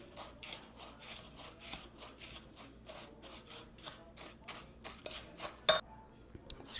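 Repeated rhythmic scraping of a spatula against a mixing container while making mini lemon blueberry cheesecakes, a steady series of close, moderate strokes ending with a sharper clack.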